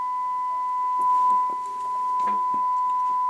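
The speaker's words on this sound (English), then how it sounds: "this is just a constant 1 kHz tone" A constant 1 kHz test tone plays through a Hacker RP72 radio, a single steady pitch held unbroken from start to finish, with faint bench noise and a few small clicks underneath.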